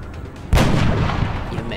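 A single heavy gunshot in XCOM, loud and booming, with a long rumbling tail that slowly decays after a quiet stretch of background noise.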